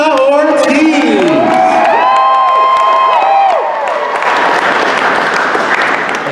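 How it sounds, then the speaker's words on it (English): Convention crowd at an anime event cheering, whooping and clapping loudly for an introduced guest, with shrill rising cheers and whistles over dense applause that carries on steadily throughout. "please, round of applause for the legend, Lisa Ortiz"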